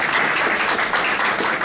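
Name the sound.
congregation applauding in church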